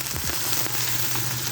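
Sea bass fries in hot oil in a non-stick skillet, giving a dense, steady sizzle with crackling spatters throughout and no voices.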